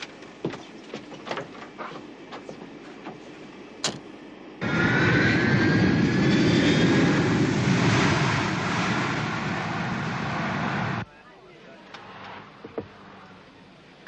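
Airplane engines roar from inside the cabin as the plane taxis after landing. The loud, steady whine and rush lasts about six seconds, with quieter cabin rumble and small knocks before and after.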